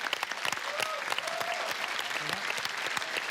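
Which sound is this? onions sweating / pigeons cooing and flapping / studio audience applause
studio audience applause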